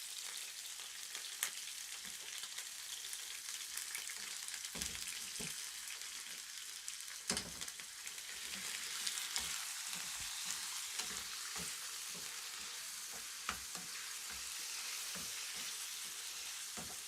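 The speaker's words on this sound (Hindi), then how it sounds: "Boneless chicken. Pre heated pan में ज़रा डालें।" Boneless chicken fries in a preheated pan with a steady broadband sizzle, and scattered clicks and knocks sound from stirring. There is no talking.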